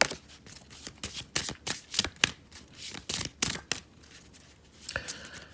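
Rune cards are shuffled by hand for a card reading, giving a close, quiet series of rapid papery riffles and slaps in irregular bursts, with no talking.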